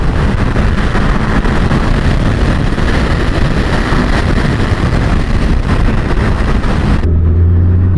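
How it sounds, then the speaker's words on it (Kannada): Steady roaring wind rushes past a rider on a motorcycle wearing a new helmet at speed, loud and constant for most of the stretch before the noise drops off abruptly near the end. "ವಿಂಡ್ ಅಂತೂ ಕ್ರೇಜಿ ಆಗಿದೆ"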